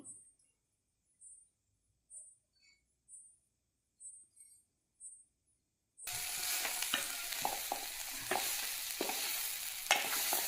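After several seconds of faint, sparse high chirps, horse gram stir-fry sizzles loudly in a pan as it is stirred with coriander, with scraping strokes over steady frying.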